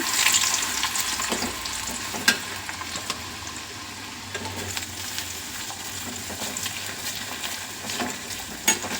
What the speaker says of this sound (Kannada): ಎಣ್ಣೆ ಕಾದಿದೆ ಈಗ ಇದರಲ್ಲಿ ಆಲೂಗಡ್ಡೆ ಎಲ್ಲ ಹಾಕಿ ಕರ್ಕೊಂಬಿಡೋಣ